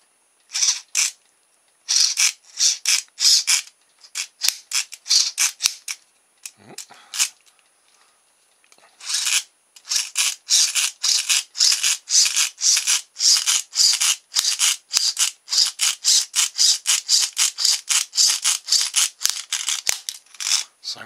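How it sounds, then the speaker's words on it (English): Plastic gears in a small hand-cranked LED generator crackle and grind in rapid bursts of harsh clicking and rasping, close and loud, with a brief pause partway through before the cranking resumes. "Sounds to me like I'm breaking the gears in there."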